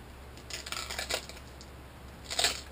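Scissors cutting through the board of a hardcover book cover: a few short, faint crunching snips in bursts, separated by quiet pauses.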